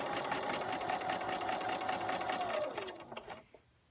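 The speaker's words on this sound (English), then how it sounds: "So just sew all the way through, start the next one." A sewing machine stitches through strips for a beginner constellation quilt, a close, steady rapid whir with the rhythmic patter of the needle, slowing and stopping at the end of the seam.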